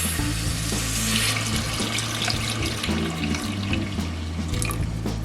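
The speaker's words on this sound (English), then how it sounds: "now that my flour and butter is cooked out, I'm going to add my milk" Two cups of whole milk poured into cooked-out flour and butter in a pot, a continuous splashing, running liquid pour, fairly close and steady, with no voices.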